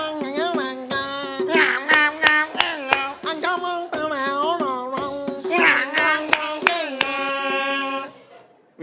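Crowd of voices singing together in a nasal, pinched way, imitating a turtle with no nose, in sustained harmonic phrases broken by sharp claps or taps, loud and continuous before trailing off at the end.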